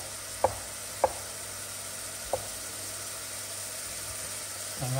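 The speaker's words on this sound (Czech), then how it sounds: "A pak si nakrájím brambory." A knife slicing potatoes for a baked potato dish with cabbage and smoked meat: three sharp cuts on a board, two close together then one after a pause, over a steady sizzle of onions frying in a pan.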